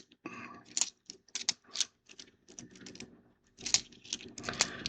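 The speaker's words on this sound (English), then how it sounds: "usually you wouldn't see me typing stuff in" Computer keyboard typing in bursts of close, crisp key clicks with short pauses between runs and no talking.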